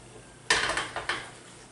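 A plastic whisk knocks and scrapes in a Teflon pan over rising heat while Thai peanut noodles come together: a burst of four or five quick, close taps and scrapes, then quiet.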